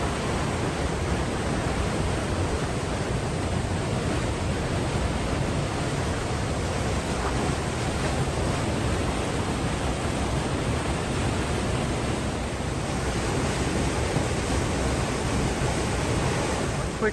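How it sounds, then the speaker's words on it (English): Water rushing through Maligne Canyon, a loud, unbroken roar of flowing water that fills the whole stretch evenly without pause. "And you can see that the water flows for quite a while."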